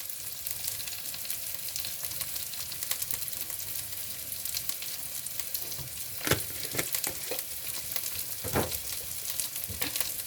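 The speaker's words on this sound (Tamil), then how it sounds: "நான் கொஞ்சம் சீரகமும் மிளகு பவுடரும் கொஞ்சம் முழு சீரகம் போட போகிறேன்" Cumin seeds and pepper powder sizzling in a pan for a Brussels sprouts curry, a constant, dense hiss with occasional sharp pops and clicks of stirring, close and steady throughout.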